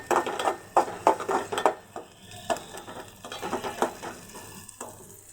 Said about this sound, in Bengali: একটু ভেজে নিব ডালটা